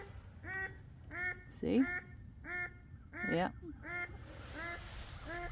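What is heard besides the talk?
duck calling near its egg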